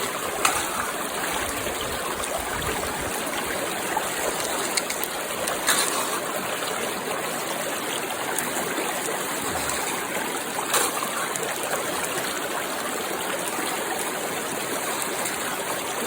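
A river in Scotland, at a spot where gold is panned, rushes and burbles in a steady wash of flowing water for the whole stretch, with no talk over it.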